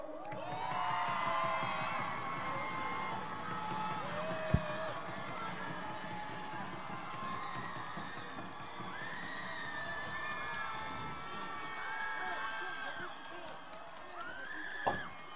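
Large crowd at an outdoor political rally cheering and shouting for three lawmakers, a sustained wash of voices and claps with whoops rising and falling throughout.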